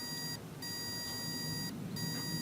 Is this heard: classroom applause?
no